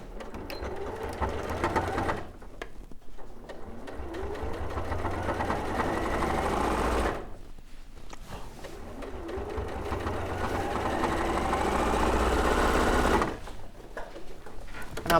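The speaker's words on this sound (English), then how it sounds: "So now I'm going to sew all along the stomach, up along the front of the face, and seal the nose." Sewing machine stitching along a quilt appliqué shape on a Kaffe Fassett Sol quilt, close and steady mechanical whirring in long runs that build slightly, broken by two brief pauses.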